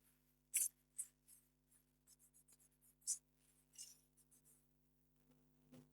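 Scratchy strokes of a formula being written on a board during a geology lecture on seismic waves, several short bursts spaced through a quiet room with a steady low hum underneath.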